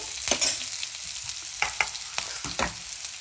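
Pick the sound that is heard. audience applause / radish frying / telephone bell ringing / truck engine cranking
radish frying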